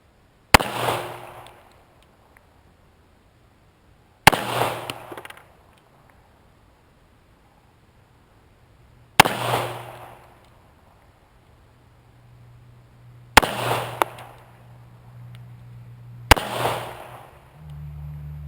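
Five sharp gunshots from a Norinco 1911 A1 .45 pistol ring out one at a time, spaced several seconds apart, each a loud crack with a short decaying echo over a quiet outdoor background.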